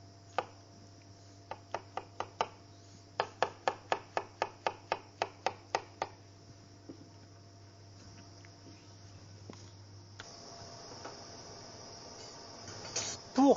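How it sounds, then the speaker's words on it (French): Kitchen knife slicing mushrooms on a cutting board for a sauce, a series of crisp evenly spaced chops in two runs, then quieter scraping and handling sounds over a steady low hum. "nous allons émincer 2 champignons pour faire la sauce"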